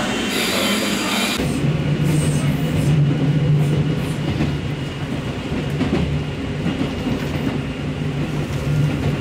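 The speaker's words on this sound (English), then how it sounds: "We're taking this itty bitty little mini train." A small local mini train in Japan rumbling steadily along the rails, with continuous wheel noise, a faint squeal and light clatter from inside the carriage.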